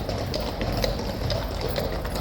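Horses' hooves clip-clop at a leisurely pace as mounted Guards ride out through a tunnel, giving a steady, moderately close rhythm of hoof strikes over a low background rumble.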